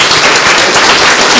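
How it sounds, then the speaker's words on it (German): A loud, dense burst of audience applause after a panel discussion at a literary reading, many hands clapping close together with no pauses. "Ich würde Sie jetzt bitten, einen tosenden Applaus fürs Podium und für Herrn Hampel."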